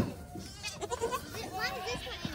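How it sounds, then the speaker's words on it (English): A baby goat on a farm bleats for its mother in several short, wavering calls close by, with a person talking softly in the background. "there's Spunkette crying for Mama"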